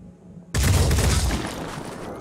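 Gunfire in the tactical game Phoenix Point bursts in suddenly after near silence, a loud close volley that rumbles and slowly decays.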